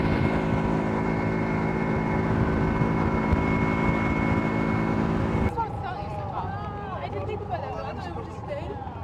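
Tuk-tuk engine drones steadily while riding on a cold morning, loud and continuous with harmonic hum, then drops off abruptly partway through as a softer scene with voices and ambient noise takes over.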